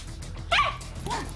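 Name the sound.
dog barking and yipping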